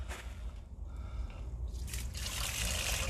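Water poured down a sewer line to flush toilet paper clear, a steady wet trickling and gurgling that swells into a louder, fuller rush toward the end.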